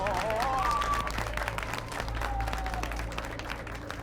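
An audience claps together in a warm, sustained round of applause, dense and even throughout, with faint tonal background music running underneath.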